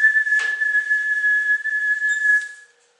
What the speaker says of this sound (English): suddenly out came a real whistle